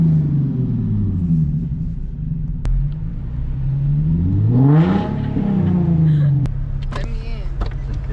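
A Nissan 370Z with a loud aftermarket exhaust idles with a deep rumble, then revs up and falls back in a rising and falling sweep. Voices talk nearby, and a few sharp clicks come near the end.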